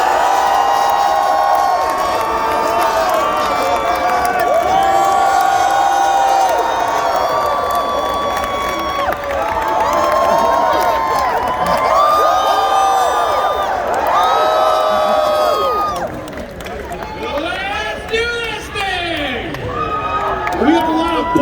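A convention audience at a comic con panel cheering and screaming continuously, with high whoops, shrieks and clapping layered throughout, loud and dense, easing slightly near the end.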